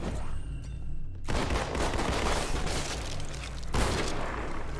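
Shotgun blasts from Halo 2 come in a dense, loud barrage, broadband bursts firing almost continuously after a quieter opening second, with another sharp hit near the end.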